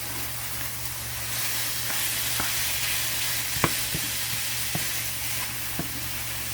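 Food frying in a pan with a little olive oil for a salmon pasta salad: an even, hissing sizzle under a steady low hum, with sparse faint clicks of utensils, no voices.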